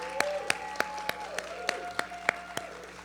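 Rhythmic clapping from a modest open-mic poetry crowd greets a poet heading to the stage, crisp individual claps at a regular pace, fairly quiet, over a low steady tone.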